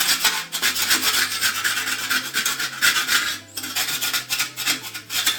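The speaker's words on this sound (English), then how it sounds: "Gonna give it a wee quick scrape here" A trowel coated in acrylic render is scraped clean with repeated rasping strokes, a steady run of loud, close, gritty scrapes with brief pauses and no talk.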